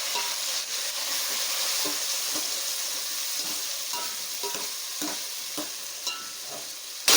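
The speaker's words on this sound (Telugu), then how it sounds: "ఇవి మనం ఉల్లిపాయలు బాగా వేగిన తర్వాత దాంట్లో పోసేసుకొని కలుపుకోవాలి." Onions and tomatoes fry in a pan for Telugu fish curry (chepala pulusu), a steady close sizzle broken by repeated scraping, clattering stirs, with no one talking.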